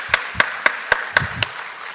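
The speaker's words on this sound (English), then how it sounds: "Once again, a big round of applause," Six slow, evenly spaced claps at an International Women's Day event at IIT Kharagpur, close and distinct with quiet gaps between them rather than a full crowd ovation.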